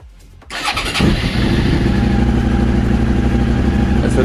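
A Suzuki SV650 fuel-injected motorcycle, set up for track use, cranks and fires at once, then settles into a loud steady idle close by with a deep rumbling twin-cylinder tone.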